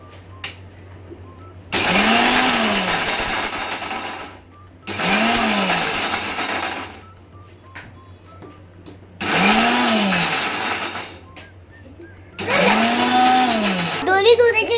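A mixer grinder powders cashews and almonds in four loud whirring bursts of a few seconds each, every burst rising in pitch as the motor spins up, with short quiet pauses between them.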